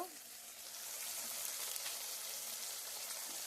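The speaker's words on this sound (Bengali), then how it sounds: "এবার ভালো করে মশলাটাকে কষিয়ে নেব" Spice masala fries in a pan, giving a steady, faint, even sizzle that runs throughout with no talk over it.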